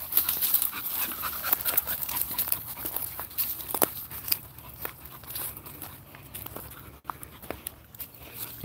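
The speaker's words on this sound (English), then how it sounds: "Here's a dog with magnificent instincts." A dog pants steadily up close while moving about, with rustling, footsteps and small whimpers mixed into the continuous breathing.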